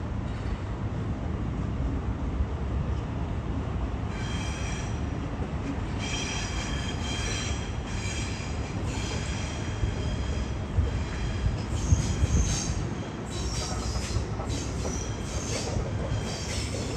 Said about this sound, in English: Trains just keep coming.